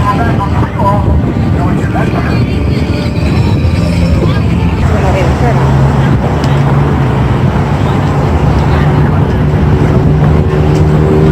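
A Galveston duck tour amphibious bus rumbles steadily near Pleasure Pier, its low engine drone mixing with passing street traffic, while several people talk and chatter over the top throughout.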